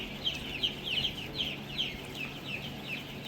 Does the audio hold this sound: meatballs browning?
no